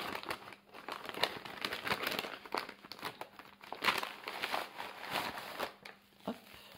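A paper-wrapped gift with fabric masking tape being opened up close: soft, irregular crinkling and rustling of paper in quick bursts, fairly quiet, with no talking.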